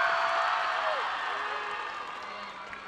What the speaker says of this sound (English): a big round of applause for Sister Zarina here